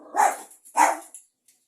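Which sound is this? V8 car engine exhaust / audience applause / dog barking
dog barking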